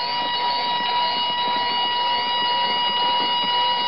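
Steady modulated continuous-wave tone from a BC-778-D World War II emergency beacon, an unbroken buzzy whine sitting over radio hiss and noise, loud and constant for the whole stretch.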